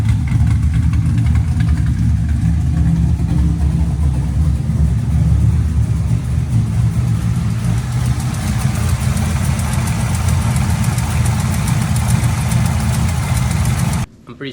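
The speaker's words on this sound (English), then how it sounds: "I got a bad lifter." LS1 V8 engine in a car, idling steadily and loud up close with a suspected bad lifter, its even rumble running for the whole stretch and cutting off abruptly at the end.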